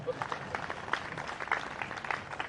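A lecture audience applauding, a dense patter of clapping sustained for a couple of seconds, fairly loud and somewhat distant.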